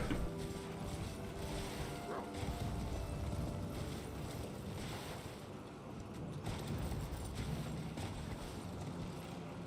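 A horse moving in a fantasy video game: a continuous run of clattering, mechanical hoofbeats with creaks, steady and fairly loud throughout.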